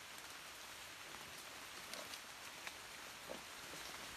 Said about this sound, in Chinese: 现在下雨来了，